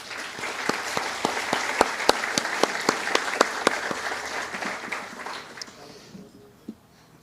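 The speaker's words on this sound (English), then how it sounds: "Let's give him a round of applause." A crowd at a military promotion ceremony for Brigadier General Macaraeg applauds, dense sustained clapping with a few sharp individual claps standing out, fading away after several seconds.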